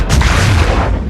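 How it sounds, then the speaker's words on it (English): A heavy explosion booms aboard a World War II submarine in Das Boot, a loud, dense, rumbling blast filling the whole moment. "You vibrate with the explosions."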